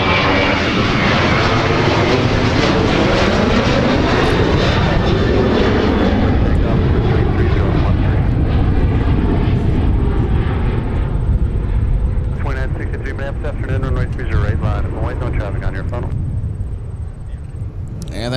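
A Southwest Airlines jet departs Minneapolis–Saint Paul bound for Denver, its loud engine roar sweeping and then slowly fading as it climbs away, while a voice talks over the noise.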